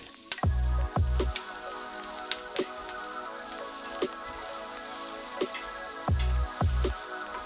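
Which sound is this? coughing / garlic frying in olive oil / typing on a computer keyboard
garlic frying in olive oil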